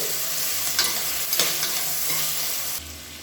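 Two medium tomatoes sautéing in a hot pan, a steady sizzle with a few soft stirring scrapes, close and continuous with no talking.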